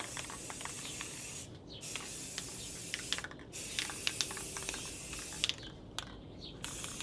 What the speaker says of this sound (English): I'm just spray painting a piece of wood